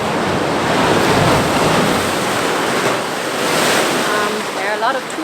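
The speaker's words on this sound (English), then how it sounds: "into these big caves where the waves come in, and the whole landscape here is very special" Ocean waves surge and wash into large coastal caves along Portugal's coast, a steady loud broadband roar of surf with wind buffeting the microphone throughout.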